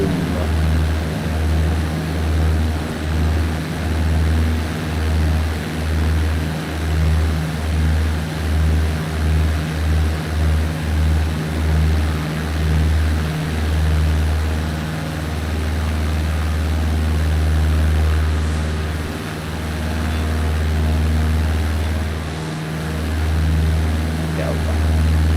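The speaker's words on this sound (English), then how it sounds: "Take off runway 3 and here we go. 55 knots." Propeller airplane engine in Microsoft Flight Simulator running loud and steady during a takeoff roll down the runway, a continuous droning hum with a slow pulsing throb that swells slightly near the end.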